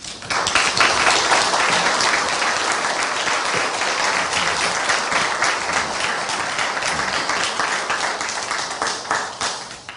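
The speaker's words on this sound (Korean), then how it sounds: "나오실 때 우리 박수로 환영하겠습니다." A lecture-hall audience at a Hanyang University talk applauds to welcome a former prime minister to the podium, with dense, steady clapping from many hands sustained loudly for the full stretch.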